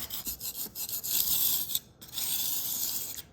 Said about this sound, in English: you can see as I scrape, I'm not affecting any of my actual fire bricks